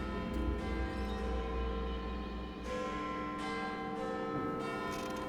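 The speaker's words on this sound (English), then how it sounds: "He's not a big fan of bells." Church bells ring continuously inside Hogwarts Legacy, a loud, sustained pealing with layered tones that hold steady throughout, backed by a low rumble.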